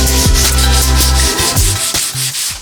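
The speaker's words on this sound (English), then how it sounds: "So what I'm gonna do is just sand it down, still using the crosshatch X" Primer on a Mercedes E63 front bumper is sanded in a crosshatch pattern with 320-grit sandpaper, giving loud, close rhythmic rubbing strokes with no talking.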